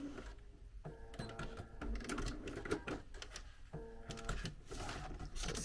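A sewing machine sews bias tape on oven mitts in short, uneven bursts of clattering stitching separated by pauses, with quiet handling of fabric in between; fairly faint and close.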